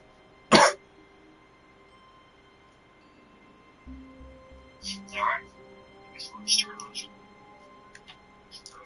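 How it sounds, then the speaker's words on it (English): A single sharp cough close to a microphone during a live game stream, followed by a low hum, faint whispering and soft, brief vocal sounds. "It's probably hella loud when I was coughing"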